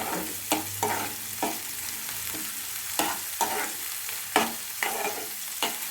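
Vegetables and avalakki (flattened rice) frying in a pan for avalakki bath, close sizzle broken by a series of sharp, repeated stirring scrapes of a spoon against the pan, no speech.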